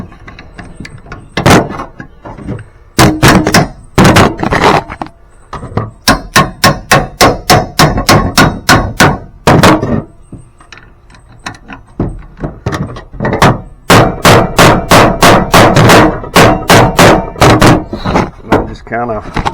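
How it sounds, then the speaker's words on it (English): Metal is hammered to knock dents out of a Yamaha jet boat ladder: loud, close blows land in quick bursts and steady runs, with short pauses between groups. "I'm just kind of pounding around the edges, the high spots, try to get it back."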